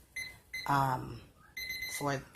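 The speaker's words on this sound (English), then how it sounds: "I'm going to start my timer because I want to stop in less than 8 minutes." A kitchen-style timer being started gives short, bright electronic beeps in two clustered bursts, close and fairly loud, with a voice speaking between and over them.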